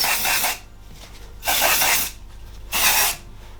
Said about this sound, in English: I'm going to add some volume spray just to give me a bit of root lift